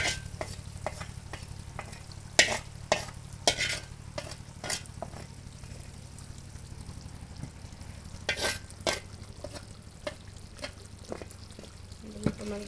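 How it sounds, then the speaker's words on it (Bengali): Fried onions going into a beef curry as it is stirred, with spoon scrapes and clinks in bursts over a low steady frying hiss, close by. "বেরেস্তা করা পেঁয়াজগুলো দিয়ে দেওয়া হচ্ছে।"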